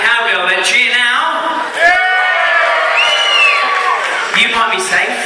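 A holiday-camp stage audience cheers to pick contestant number one, a loud burst of whoops, shrieks and children's shouts that swells and carries on for several seconds.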